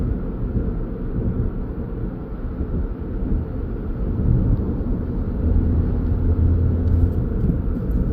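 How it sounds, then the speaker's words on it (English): Suzuki Ignis 1.2 Dualjet hatchback, 81k miles, climbing a hill in fourth gear at about 40 mph: a steady low in-cabin engine and road rumble that swells slightly midway, with no talking. "Fourth gear, going up the hill at 40 miles per hour."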